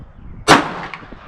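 A single .44 Magnum revolver shot fired in single action: one sharp, loud blast with a short ringing decay outdoors.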